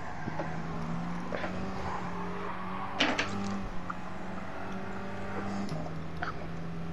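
Abarth car drifting with steady engine drone and tonal tire squeal running through, a sharp burst of skidding noise near the middle, faint talk underneath.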